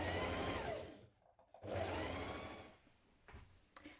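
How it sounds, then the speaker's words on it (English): A sewing machine machine-basting a pocket seam on a hooded jacket runs in two close, steady bursts with a short pause between them and a quieter tail at the end, with no talking. "So just tack it down or baste it in, machine baste it now."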